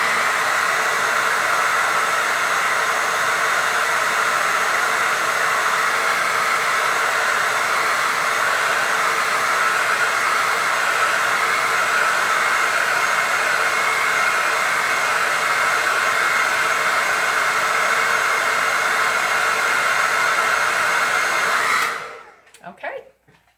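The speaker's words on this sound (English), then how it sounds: "go back with my blow dryer. I have a diffuser on" A hair dryer fitted with a diffuser blows with a steady, close, loud rushing hiss, then switches off near the end with a brief clatter.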